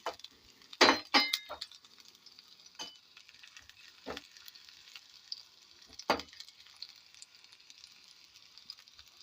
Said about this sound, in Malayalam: ചെറിയ ഉള്ളി ഒന്ന് മൂത്ത് ബ്രൗൺ നിറാവുന്നവരെ വഴറ്റി കൊടുക്കുക